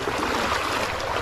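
Noisy water of a stream rushes in a dense, constant hiss and gurgle close by, with no pause across the short stretch.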